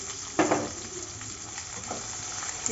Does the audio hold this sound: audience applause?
no